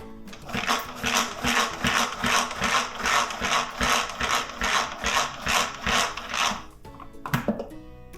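The ingredients for a spicy egg roll sauce, four in all, are mixed in a bowl with quick, regular stirring strokes that scrape and clack in a steady rhythm. The mixing stops with a few clattering knocks at the end.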